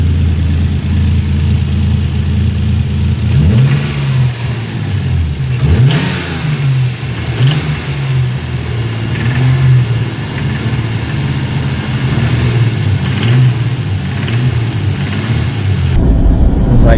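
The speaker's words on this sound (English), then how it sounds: "So I revved it up a little bit, like just with the throttle body, and then I could hear the ticking" A Toyota Supra engine is revved from idle with the throttle body, rising and falling in several blips. A faint rod-knock tick is said to sit beneath it, and a voice talks over parts of the run.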